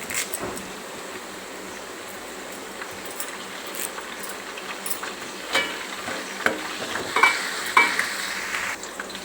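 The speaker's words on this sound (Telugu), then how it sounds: "ఒక స్పూను పసుపు, జింజర్ గార్లిక్ పేస్ట్, కరివేపాకు మంచిగా వేగింది కదా." Curry leaves, turmeric and ginger garlic paste fry in a pan with a continuous crackling sizzle, punctuated by stirring clatter that grows busier toward the end, with no talk.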